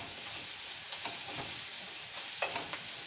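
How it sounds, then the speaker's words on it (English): Spiced cauliflower for buffalo cauliflower wings is stirred and tossed in a hot pan, a soft steady sizzle broken by a few light scraping knocks, close and fairly quiet. "we're going to go ahead and give a stir. Toss that about"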